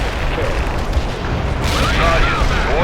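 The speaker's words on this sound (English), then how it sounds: "Heavy artillery barrage." A heavy artillery barrage in the World in Conflict video game rumbles as a loud, continuous wash of booming explosions, with voices talking over it.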